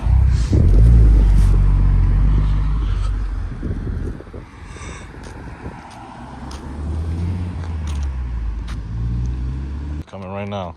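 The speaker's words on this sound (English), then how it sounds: "Gonna do a pull with the intake on the Honda." A modified Honda Civic Type R FK8 with an aftermarket intake revs hard, a loud, close engine roar with wind buffeting that eases into a steadier drone, then a sharp change near the end.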